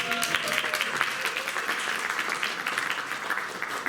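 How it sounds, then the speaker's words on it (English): Audience applause at a candidate forum, a dense steady wash of many hands clapping that fills the room at even loudness throughout, with faint voices mixed beneath. "Round of applause."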